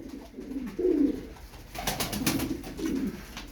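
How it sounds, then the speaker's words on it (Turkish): Pigeons coo in low, throaty bursts, several calls close by, with soft rustling and flapping between them. "9 tane kuş var."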